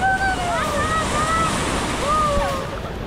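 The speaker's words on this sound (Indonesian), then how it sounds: "kita harus bertanding dengan ombak sebesar ini" Big ocean waves surge and break along a Java shoreline, a steady loud roar of surf and wind buffeting the microphone throughout, with whistling tones drifting over the rush of water.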